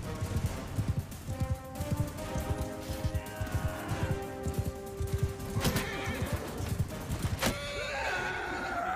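A horse whinnies loudly in a video game battle over rhythmic hoofbeats clopping along, with a sharp crack or two near the end.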